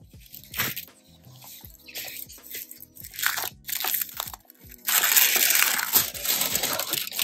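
A Lindt Excellence 90% cocoa dark chocolate bar is snapped apart into its separate pieces. Several sharp, close crisp cracks come at irregular intervals, followed by a louder, denser rustling crunch near the end.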